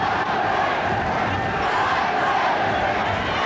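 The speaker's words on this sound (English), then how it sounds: "The crowd trying to lift the Blues, hoping they can snatch a draw out of this." A football crowd at Windsor Park fills the stadium with a steady, loud roar during a Linfield versus Manchester United match. The dense sound has no breaks and no clear single voices.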